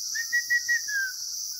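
A man whistles an imitation of a rufous sibia's call, a short run of clear, high whistled notes, three quick pulses followed by a longer sliding tone, heard close and alone.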